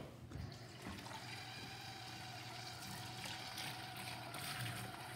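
A container is rinsed under running water in a kitchen, with a steady, fairly quiet rush and splash that holds evenly for several seconds and carries no talk.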